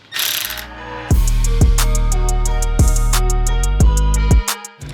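Three 10mm bolts come out of a Toyota GR Corolla front bumper with a loud, close ratcheting whir in several repeated bursts, each spinning down in pitch before the next.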